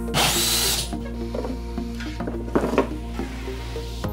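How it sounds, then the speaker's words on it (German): An 80 mm hole saw in a power drill cuts a fan hole through a base panel, starting with a loud whirring bite, then slower grinding, ratcheting spurts with a steady low hum underneath. "Passend für meinen 80 mm Lüfter habe ich jetzt hier eine 80 mm Bohrkrone. Und mit der bohren wir jetzt das Loch"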